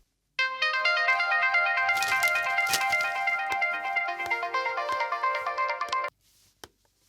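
A mobile phone plays a bright, melodic ringtone for an incoming call, loud and repeating for about six seconds before it stops, followed by a single faint knock.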